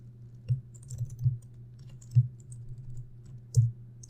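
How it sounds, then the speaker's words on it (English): Typing on a computer keyboard while programming, with a handful of irregular, distinct key clicks separated by pauses, close and fairly quiet, with no talking. "Sloppy typing today."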